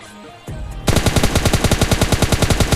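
Automatic gunfire in the PUBG Lite video game, a loud, rapid, evenly spaced burst of shots following a short lead-in, with no talking.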